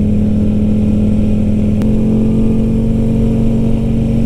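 A Can-Am Spyder three-wheel motorcycle engine runs steadily at close range, a loud droning tone that shifts pitch abruptly partway through after a sharp click, with no voices.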